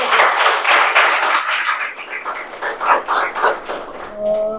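An audience bursts into loud, dense applause at a Ganpati festival 2024 prize distribution ceremony, a steady wash of many hands that thins and grows patchier toward the end.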